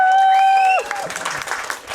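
A crowd at a Mario Kart Wii speedrun event breaks into applause and cheering, a loud burst of clapping that follows a sustained tone and then settles into scattered claps over the last second.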